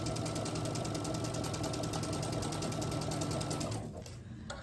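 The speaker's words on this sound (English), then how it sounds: "I'm going to stitch on one side of that line, a 1/4 inch again" Sewing machine stitching a quarter-inch seam on quilt fabric, a rapid, even mechanical chatter running continuously and close by before slowing and stopping near the end.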